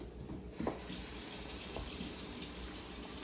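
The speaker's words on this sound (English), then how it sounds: "Some cold running water so they can cool off." Cold water runs steadily from a kitchen tap over potatoes being rinsed in a sink, a continuous close hiss and splash with a couple of soft knocks near the start.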